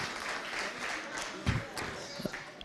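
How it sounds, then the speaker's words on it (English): Audience applause at a pan-African conference on illicit financial flows and taxation, honouring a team, heard as a moderate spread of clapping with a couple of louder thumps near the end. "Big round of applause to them."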